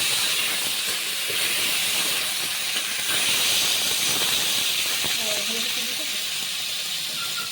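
Pieces of rohu fish fry in hot oil with a loud, continuous hiss and sizzle that stays steady throughout, joined by faint occasional crackles.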